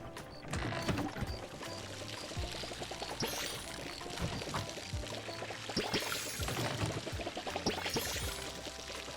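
Water pours steadily while being filtered in the Palia game, with ratcheting, gear-like mechanical clicks layered over the continuous trickle and no talking.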